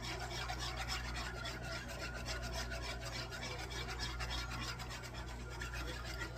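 A whisk rubs steadily around a pot of sauce, giving a continuous, close scraping swish with fast repeated strokes over a low hum, and no voices.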